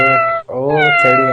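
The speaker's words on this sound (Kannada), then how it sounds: "O my god cat" A cat meows loudly and close by, two drawn-out tonal meows separated by a brief gap, clear and alone.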